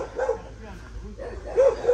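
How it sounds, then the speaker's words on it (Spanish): Small dogs yip and bark faintly in the background while people talk nearby, with a sharper yelp rising near the end. "Tiene perritos."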